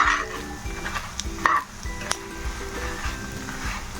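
Guntur karam podi ingredients roast in oil in a pan, crackling softly with a few sharp clinks and stirring scrapes, all fairly faint, with a trace of background tones.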